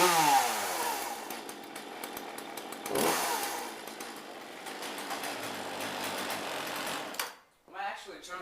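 A Poulan chainsaw fitted with a new chain, still warm from cutting, runs close by with a steady buzzing drone that rises briefly, then cuts out near the end before a short sputtering restart.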